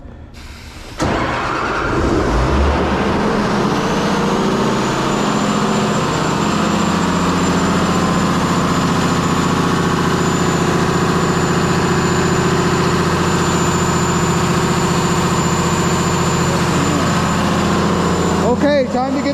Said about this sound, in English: So to start this fire pump, get ready because it's loud.